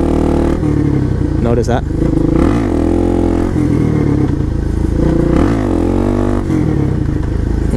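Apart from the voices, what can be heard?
Suzuki DRZ motorcycle in first gear doing wheelies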